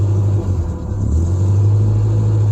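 A warmed-up car engine, freshly revived after winter storage, idles in a steady, close, low rumble that holds evenly throughout with no voices.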